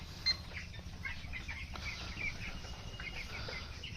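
Chickens on a poultry farm, seventeen-day-old birds, give faint scattered clucks and soft calls over a steady low background hum.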